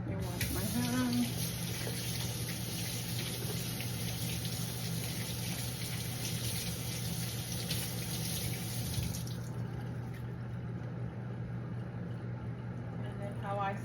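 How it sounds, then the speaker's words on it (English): Running water from a kitchen tap pours steadily into a big sink while hands are washed, a continuous close hiss that stops partway through, with a low hum underneath. "Wash my hands."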